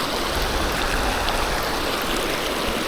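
A waterfall on a summertime Ozark stream roars steadily and close, a constant broadband rush of falling water with no breaks or voices.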